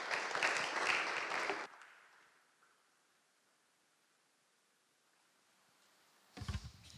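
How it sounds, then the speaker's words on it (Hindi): A church congregation at a Sunday Hindi service gives a short burst of applause, which fades into quiet room hiss before a thump and a brief sound near the end. "बिना तालियों के द्वारा उनको स्वागत करें।"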